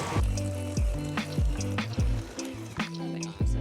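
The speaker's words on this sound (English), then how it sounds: "I'm just going to mix this on medium-high until it's light and creamy" An electric mixer on medium-high creams butter with light brown sugar for a gingerbread cake, a steady motor hum broken by regular thumps and scrapes of the beaters against the bowl.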